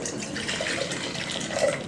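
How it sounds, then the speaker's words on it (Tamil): Water is poured into a pot to make tea, giving a steady, close splashing and gurgling stream that runs unbroken throughout. "இதில் 200 ml தண்ணி ஊற்றினேன்."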